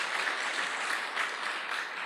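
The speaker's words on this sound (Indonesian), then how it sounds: "Aplaus sekali lagi buat Anda Bapak Ibu." Audience applause at an Indonesian business seminar, steady dense clapping from a crowd, loud and continuous for the whole stretch with no voices over it.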